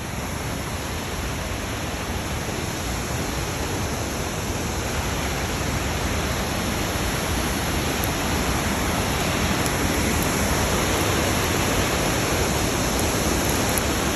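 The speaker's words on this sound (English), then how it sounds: "I can certainly see this side of the waterfall." Waterfall in Castleguard Meadows roaring steadily and loudly at close range, a dense unbroken rush of falling water filling the whole stretch with no voices.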